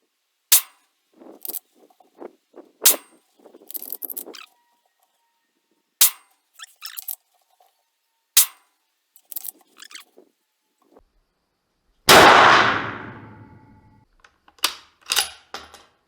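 Mosin Nagant rifle fired during a handloading accuracy test with a chronograph fitted to the muzzle; a big sharp shot with a long decaying report stands out, among sparse clicks and handling noises in quiet surroundings.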